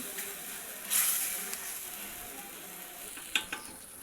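Spice masala frying and being stirred in a pan: a steady close sizzle with a brief louder hiss and a few scraping, clinking stirs near the end.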